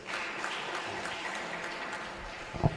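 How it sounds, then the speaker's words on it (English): Community members at a public hearing on a climate change bill in a Cape Town community hall clap together, a faint, steady patter of applause with a louder knock near the end. "Can we clap to the kings and the queens?"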